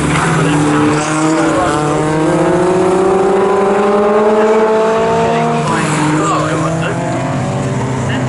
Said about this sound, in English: and this time Stuart Much, number 7 in the MEV MX 150R, racing a different class, is able to make it through.